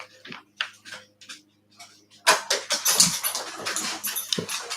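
A puppy gives soft, short yips and whimpers at first, then louder, busier yelps and scuffling close by.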